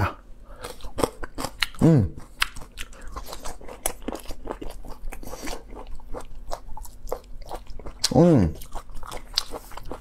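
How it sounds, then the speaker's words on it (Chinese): Spicy chard root being eaten for an ASMR mukbang, with sharp crunchy bites and wet chewing repeating close to the microphone, and a brief murmured hum between bites. "今天我也吃个牛皮菜根儿啊，听说特别辣"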